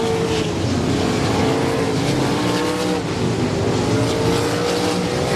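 Race cars roar around an oval at Big O Speedway during a regular race program, with a dense, continuous wall of engine noise from several cars passing close by and tire noise mixed in throughout.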